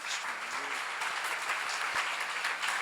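A church congregation claps together during a sermon at a seminar, giving a dense, even burst of applause that carries on for a few seconds.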